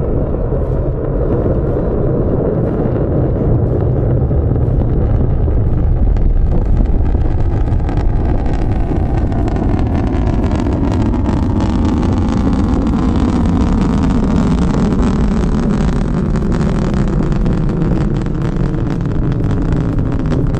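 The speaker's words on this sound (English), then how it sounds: "This is liftoff." Liftoff of a Kinetica 1 rocket carrying five satellites, a continuous loud, rumbling roar with rushing, wind-like noise that holds steady throughout, heard from a distance without speech.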